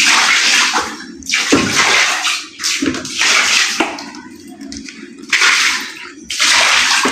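Bursts of water splash onto floor tiles in several separate pours, each stopping abruptly, close and fairly loud with short gaps between.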